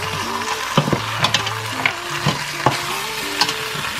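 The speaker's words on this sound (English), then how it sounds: "I'm gonna stir this in just a little bit, just to get some of that stew on all that meat." Hot stew being stirred into meat in a pot for jollof rice, with a spoon scraping and knocking in a rhythmic series of sharp strokes over a steady sizzle, close and fairly loud.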